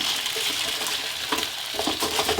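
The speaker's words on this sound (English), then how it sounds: "our dollar fries are frying nice in the background" Steady hissing and crackling of French fries frying in hot oil in a pan, with small pops and splatters scattered throughout.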